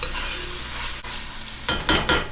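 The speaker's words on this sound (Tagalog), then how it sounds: "Iprito-prito na po natin itong ating patatas." Steady frying hiss of potatoes fills the pan, then three sharp scraping stirs cut in near the end, close and fairly loud.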